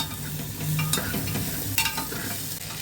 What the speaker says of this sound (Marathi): त्यानंतर व्यवस्थित असं हलवून घ्यायचं आहे